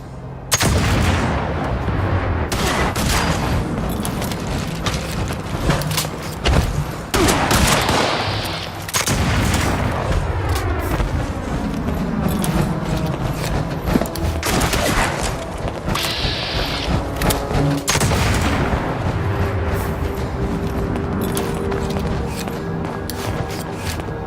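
Dense, continuous gunfire in the online game Fallout 76, with rapid overlapping shots and mechanical clatter running loud throughout, backed by game music and effects.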